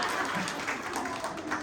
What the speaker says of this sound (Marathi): रौप्य महोत्सव टाळ्या वाजवत.